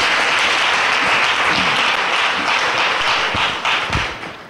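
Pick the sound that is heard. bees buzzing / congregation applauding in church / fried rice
congregation applauding in church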